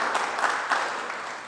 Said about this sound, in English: A round of applause for John Victor,